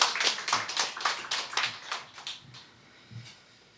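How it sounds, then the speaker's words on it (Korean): A church congregation claps to welcome newcomers, a short burst of lively overlapping handclaps that thins out and fades within a few seconds. "우리 뜨거운 박수로 환영하겠습니다"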